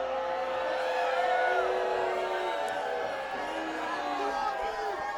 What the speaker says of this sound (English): Crowd very excited for that